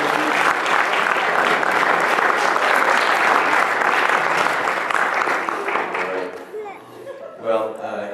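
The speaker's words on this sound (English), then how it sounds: "Can everybody just give Shorty a round of applause?" A live audience gives a guest a warm round of applause: loud, full, continuous clapping for about six seconds that thins out and gives way to people talking.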